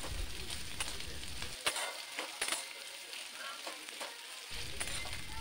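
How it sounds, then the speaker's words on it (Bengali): Thinly sliced onions fry in hot oil for chicken tehari, a steady, moderately close sizzle with a few sharp spatula clicks and scrapes. "পেঁয়াজগুলো মিনিট 2 ভেজে নিচ্ছি।"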